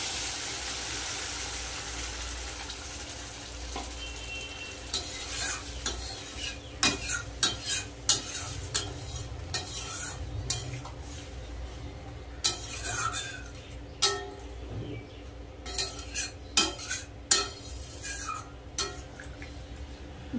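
A spatula scrapes and clatters against a pan as water goes into fried spice paste for a spicy tengra fish curry, with a soft sizzle under irregular stirring knocks that grow busier midway.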